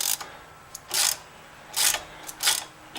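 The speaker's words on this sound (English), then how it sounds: "So I just use a wrench in the back" A wrench works a 13mm nut on the brake line bracket of a 2014 Ford Fusion: a few short metallic ratcheting bursts separated by pauses, close and fairly quiet.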